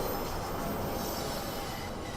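Train running on the London Underground Bakerloo Line in Train Sim World 4, heard as a steady, continuous rumble of wheels on rails with faint squealing, with no voices.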